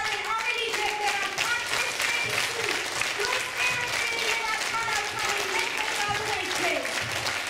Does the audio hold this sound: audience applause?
yes